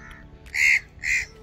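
Two loud, harsh crow caws close by, each about a quarter second long, with a short gap between them, heard outdoors beside a road during a journey.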